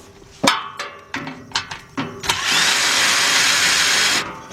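An air impact gun loosens bolts on a Kia or Hyundai V6 during a timing belt and water pump job, several short rattling bursts followed by one long sustained whir, close and loud.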